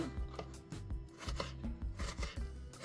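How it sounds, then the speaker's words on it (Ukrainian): Knife chopping an onion into pieces on a board, a quick, uneven series of sharp close thuds with light crunching between strikes. "Зараз ми рібчасту ріжемо на шматочки"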